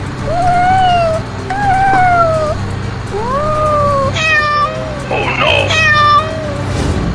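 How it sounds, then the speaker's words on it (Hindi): A cat crossing a road meows repeatedly, about six loud, drawn-out mewing calls with rising and falling pitch, close by over a low steady background hum. "रोड पर एक बिल्ली रास्ता पार कर रही है।"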